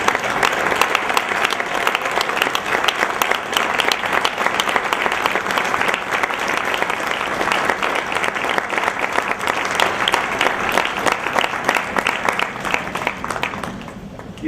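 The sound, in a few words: audience applause for students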